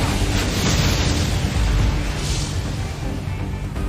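A loud anime explosion from a My Hero Academia armor piercing shot, a sustained roaring blast that fills the short moment at near-constant loudness before cutting off abruptly.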